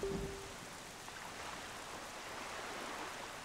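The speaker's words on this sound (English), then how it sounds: "I think we just went to a place that has at least rain, if not thunderstorms." Rain falls in the video game The Legend of Zelda: The Wind Waker, a steady soft hiss of drops on the sea and surfaces, even and continuous, with a brief faint tone at the start.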